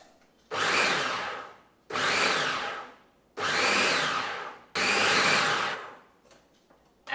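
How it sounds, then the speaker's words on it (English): Food processor blitzing shrimp cake mix in four short, loud bursts about a second long, each with a whirring motor roar and a brief pause between, close by. "Now you want to blitz this but with really short bursts because you want some texture and you want some bite."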